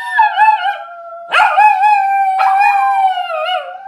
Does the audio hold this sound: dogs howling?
yes